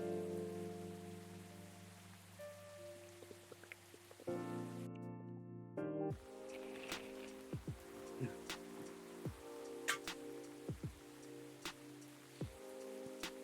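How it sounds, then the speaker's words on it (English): Steady soft rain patters in the Coffee Talk video game, a continuous faint hiss under gentle background music with occasional light drip-like plinks and no talking. "It's just raining every day."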